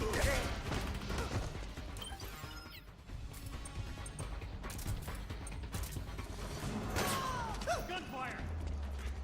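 Gunfire and crashing impacts in the Metal Gear Solid 4 video game, loud and busy throughout amid clattering mechanisms and game effects, with voices briefly audible.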